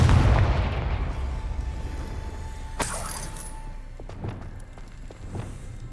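Confringo blasting spell explosion in the video game Hogwarts Legacy, a loud booming burst at the start that rolls off into a long decaying rumble, followed by a sharp crackle and scattered smaller pops.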